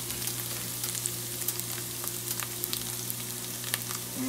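Steady, dense sizzling of rice frying in hot oil in a pot, with scattered crackles and pops, continuous and close, over a low constant hum.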